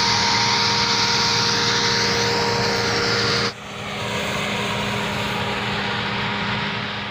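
Combine harvester cutting wheat on a field in its first year after stump clearing: a loud, steady engine drone with a whining tone, briefly dropping midway before resuming, with no voices.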